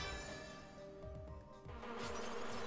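Bees buzz in the platform video game Freedom Planet, a continuous droning hum under scattered game effects and music, moderately loud throughout.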